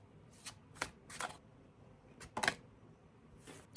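A deck of cards is shuffled for a card reading in several quick, crisp riffles and bursts close by, with quiet pauses between them.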